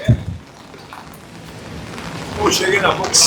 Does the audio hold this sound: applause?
no